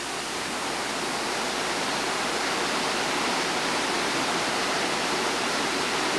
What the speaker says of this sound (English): Into some real heavy water now.